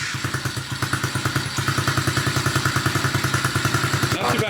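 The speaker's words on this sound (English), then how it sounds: "go ahead and fire it up, Cody." A cheap 110cc Amazon dirt bike engine starting from cold and settling into a steady, loud, close putter with a rapid regular beat and mechanical clatter, with voices talking over it.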